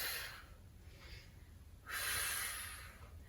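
A person doing Pilates takes a deep breath and then exhales, two soft breathy rushes of air, close and quiet, with no talking.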